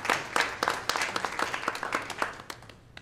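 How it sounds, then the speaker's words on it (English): A small meeting audience claps for police officers, a thin scatter of hand claps that fades out over a few seconds, fairly quiet and somewhat distant. "We'll clap for all of them at one time."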